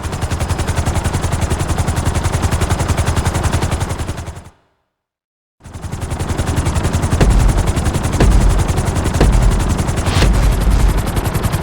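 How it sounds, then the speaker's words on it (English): Helicopter in GTA 5 during a flight school lesson, rotor blades chopping in a fast, steady pulse that cuts out completely for about a second, then resumes with some heavier thumps. "we're gonna put you in a helicopter for this lesson"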